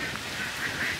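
A flock of ducks at a duck farm beside paddy fields fills the air with continuous overlapping quacks and honking calls, fairly loud and steady, with no talking.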